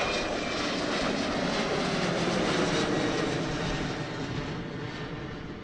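Airbus A330 jet airliner from Minneapolis at Amsterdam airport, a loud, steady broadband engine roar that holds for several seconds and eases off slightly toward the end, with wind and no talk.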